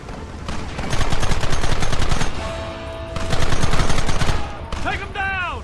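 Rapid bursts of gunfire in Red Dead Redemption, dense volleys of crackling shots in two loud waves with a short lull between them, ending on a ringing, whining tail.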